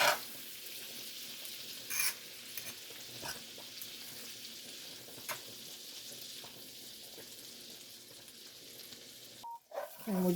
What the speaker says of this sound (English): And we're going to saute it in the butter.